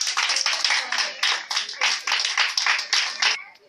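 Church congregation clapping rhythmically in a steady run of close, bright claps that ends abruptly, with no voices over it.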